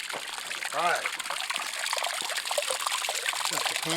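Water from a stream trickles and splashes gently at a gold panning station outdoors, a soft continuous babble with faint bird calls above it.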